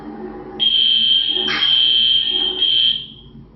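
A fire alarm sounds on Easter Sunday with a loud, sustained high-pitched electronic tone that holds for about two and a half seconds, briefly rises in pitch, then fades out.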